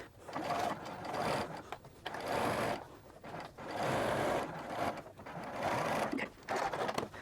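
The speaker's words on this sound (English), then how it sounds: "That's in my regular machine. So I've got a long straight stitch and I am ready to sew." A regular sewing machine runs a long straight stitch in several steady whirring bursts separated by short pauses, loud and close with no talk over it.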